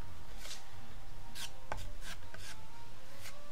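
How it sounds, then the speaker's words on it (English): Body filler is sanded on a Classic Series 70s Stratocaster guitar body, heard as close, rhythmic rasping strokes repeating every half second or so over a steady low hum. "I just give it a good sand back, probably take it almost back to timber,"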